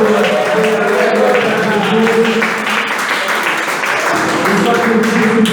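Church congregation applauding during a communion service sermon, a steady wash of many hands clapping at close range that carries on through the whole stretch.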